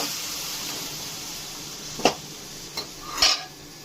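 A utensil stirs bitter gourd stir-fry in a pan after a little water is added. Three distinct metallic scrapes and clinks, the last a longer scrape, sound over a faint, steady background hiss.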